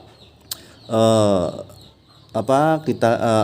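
Chickens clucking and calling nearby, a few loud drawn-out harmonic squawks separated by short pauses.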